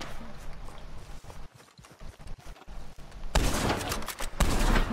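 Explosive-ammo gunfire in Red Dead Redemption 2 Online, a loud burst of rapid shots and blasts in the last second and a half, after a quieter stretch of scattered thuds and hoofbeat-like clatter.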